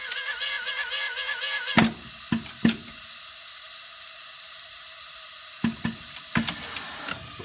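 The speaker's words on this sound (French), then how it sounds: "on va pouvoir avoir le remplissage qui va démarrer" Jar-filling machine on a pot production line dispensing into a jar: a steady hiss of flowing fill, then a stretch of low mechanical hum broken by several sharp clicks and clunks of the machinery.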